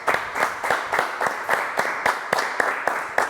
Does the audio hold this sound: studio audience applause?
yes